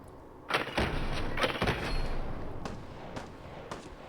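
Rifle fire from a Chinese anti-materiel rifle in Fallout 4, with a loud sharp report followed by a few fainter thuds and booms spread over several seconds.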